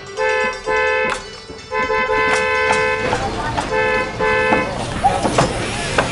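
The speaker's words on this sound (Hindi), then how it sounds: "हॉर्न पे हॉर्न ही दिए जा रहा है।" A car horn honks repeatedly outside a garage, loud and near, in several long blasts that alternate with shorter toots. Voices and other noise come in toward the end.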